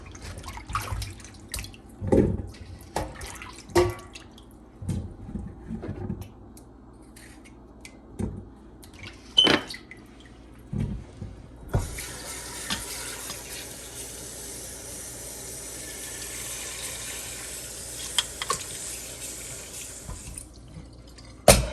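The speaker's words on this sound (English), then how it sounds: "I'm just gonna rinse them off" Potatoes are rinsed under a running kitchen tap, a steady close gush of water lasting several seconds after scattered clinks and knocks of handling.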